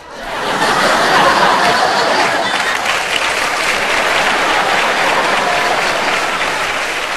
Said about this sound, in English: I'll do this while you clap.